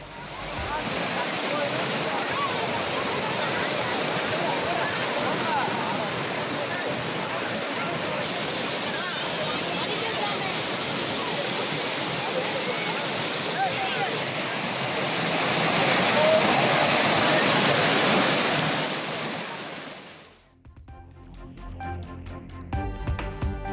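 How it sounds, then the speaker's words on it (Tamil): Overflow water from a lake's sluice cascades like a waterfall, a loud, steady roaring rush that swells slightly before cutting off near the end. "ஏரி கண்மாய் கழுங்கில் மறுகால் பாய்ந்து அருவி போல் கொட்டும் தண்ணீர்"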